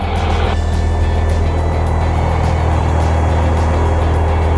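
A small training aircraft's engine roars at full throttle during the takeoff roll on runway 36. The drone is loud, close and steady, with a strong low hum that continues without a break.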